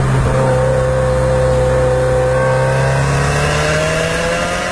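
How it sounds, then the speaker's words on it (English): A new Subaru WRX boxer engine hums steadily under load while driving, its engine tone rising slowly as the revs climb, loud and continuous with road and cabin noise and no talking. "while I'm driving the new WRX and match the sound to the revs of this engine"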